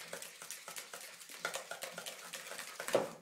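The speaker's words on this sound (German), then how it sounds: "schön verrühren" A spoon stirring homemade garlic sauce in a bowl, soft rhythmic scraping and light clinks repeating steadily at close range, fairly quiet.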